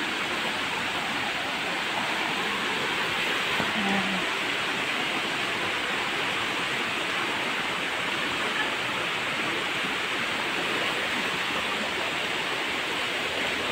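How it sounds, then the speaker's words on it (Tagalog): Water from a natural spring rushes and splashes continuously nearby, a steady full-bodied flow like a small waterfall or stream. "Kahit saan lang mulusot yung tubig."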